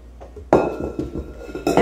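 A spatula scrapes around a mixing bowl of butter and powdered sugar buttercream, producing a sudden knock and a ringing clink followed by a few short scraping and tapping sounds, close and loud.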